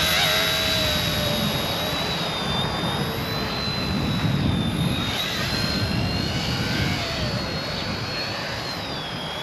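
An Eachine E110 tiny toy helicopter in flight gives a steady, close, high-pitched whining buzz of small motors and rotor for the whole stretch, with slight pitch wavers as it moves and no talk.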